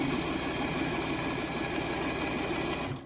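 A sewing machine stitches a seam in a fabric craft gnome, a loud continuous mechanical whirr and buzz running steadily, then stopping at the end.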